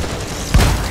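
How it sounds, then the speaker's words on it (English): A grenade explosion in the video game Deep Rock Galactic, heard as a single loud, low boom over dense, noisy game action. "It's a nice grenade."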